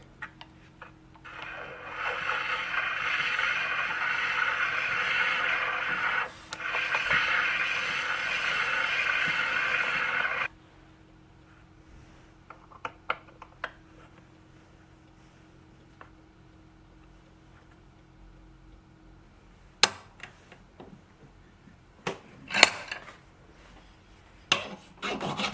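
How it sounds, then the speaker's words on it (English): A graver turns down the collet seat on a watchmaker's lathe while making a new date wheel for a 19th-century longcase clock. A steady, close rasping scrape runs for about ten seconds, then quiet follows with sparse small ticks and no talk. "I move over to the watchmaker's lathe and use the graver to slowly turn down the seat for the collet"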